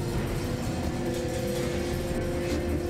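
A train in Resident Evil 2 remade as a Half-Life 2 mod gives a steady, unbroken rumbling roar that fills the whole stretch at an even level.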